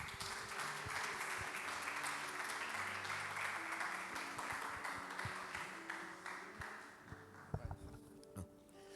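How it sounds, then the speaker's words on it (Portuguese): A church congregation applauds after a sermon, steady dense clapping with organ or keyboard chords underneath, thinning toward the end as a few louder individual claps stand out. "As palmas do Senhor."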